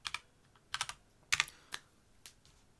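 A few quick keystrokes on a computer keyboard enter a value into a field in DaVinci Resolve, with crisp close clicks in small clusters and brief pauses in a quiet room.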